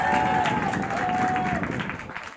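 Football supporters at a tournament match applaud a substituted player, a dense burst of crowd clapping that fades slightly over a couple of seconds, with a whistle-like tone and faint voices mixed in.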